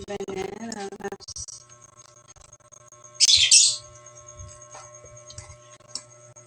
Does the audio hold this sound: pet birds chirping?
yes